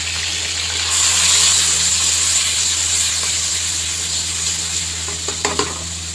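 Crushed garlic and ginger frying in oil with cumin, a loud continuous sizzle and hiss from close by, with a few small clinks of a spoon near the end.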